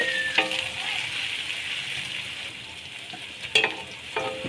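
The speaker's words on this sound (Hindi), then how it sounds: "अदरक लहसुन का पेस्ट डालेंगे इसमें।" Ginger garlic paste fries with onions in a hot pot for chana dal pulao, giving a steady bright sizzle with a few scraping stirs of a spoon against the pan.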